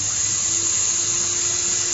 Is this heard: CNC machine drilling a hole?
yes